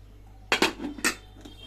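A pressure cooker lid being set on the cooker: a brief cluster of two or three close metallic clanks and rattles, then a quieter clink over a low steady hum.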